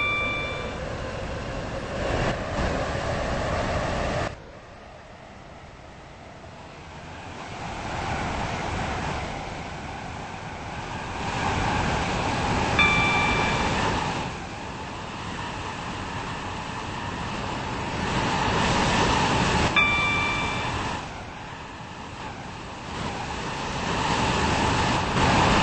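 Simulated train in the Stepford County Railway video game on a Stepford Connect service to Stepford Airport Central, rolling steadily along the railway with a continuous rumble that dips and swells, plus occasional brief tonal chimes.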